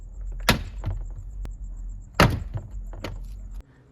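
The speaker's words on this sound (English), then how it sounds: "you should hear the clips releasing with a loud pop" Plastic door panel clips on a first-generation Toyota Sequoia or Tundra pop loose as a pry tool works around the panel. Three sharp, separate snapping pops ring out over faint handling noise.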